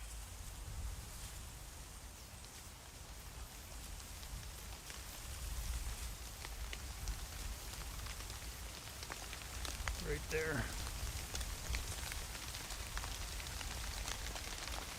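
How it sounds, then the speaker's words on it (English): Steady rain patters down in a hunting video game, a soft, even hiss that continues throughout, under a brief spoken remark from a player. "I hate when it rains, but this is going to work out"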